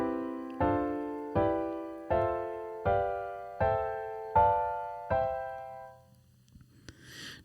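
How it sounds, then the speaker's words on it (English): Seventh chords played one after another up a chord scale, seven evenly spaced struck chords each ringing and decaying before the next, clear and close, with no talking. "the seventh chords, and they sound like this."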